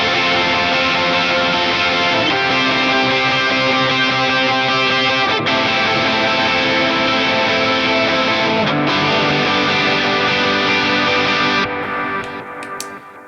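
Electric guitar with overdrive distortion strums a rhythm part for a worship song, thick and sustained with chord changes, loud and close, then fades out at the end.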